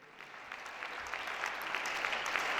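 A church congregation at a Sunday worship service applauds, with faint, distant clapping that swells steadily louder and denser across the moment.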